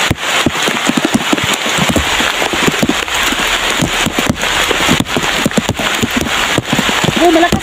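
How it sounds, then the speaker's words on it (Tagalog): Heavy rain pelts down outdoors in a dense, continuous patter of sharp drops, loud and close, with no pauses. "Malakas na talaga ang ulan."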